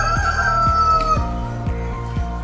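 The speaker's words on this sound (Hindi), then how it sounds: "पीछे मुर्गे बांग दे रहे हैं" Roosters crow in a small South Indian village near Kanyakumari: repeated rhythmic calls over a steady low hum, a couple of fairly near crows standing out clearly.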